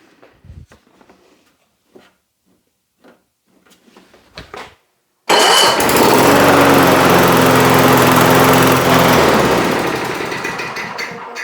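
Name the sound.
lawn mower engine running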